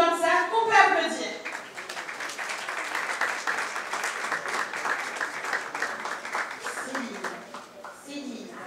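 Audience applause for a multidisciplinary performer at a jazz festival press conference, a broad sustained patter of many hands filling several seconds, fading near the end as voices return.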